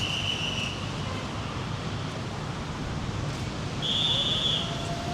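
Two sustained high whistle tones, one early and one near the end, sound over a steady broadband rush of wind or traffic noise on the streets of Da Nang, Vietnam.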